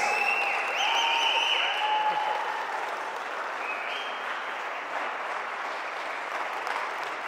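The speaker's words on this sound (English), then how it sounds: "so we give him an applause" Wedding guests in a church applaud the newly married couple, a loud sustained burst of clapping that eases slightly partway through, with a few cheers and whistles rising above it.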